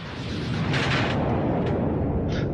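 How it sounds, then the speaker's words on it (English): A floating mine explodes in a science-fiction film, a sustained roaring blast rumble filling the whole stretch with dense low-end power and brief crackling bursts on top. "Brooklyn and Nim encounter another mine"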